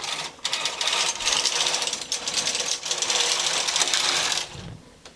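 Knitting machine carriage sliding across a pumpkin punch card pattern, a loud, steady mechanical rattle and whir running for about four seconds before dropping off at the end of the pass.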